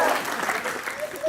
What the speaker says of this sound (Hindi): ताली दे ताली।